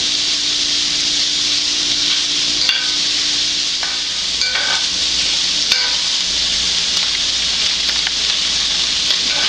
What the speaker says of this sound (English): Now all we want to do is just fry this up a little bit, get it a little crispy.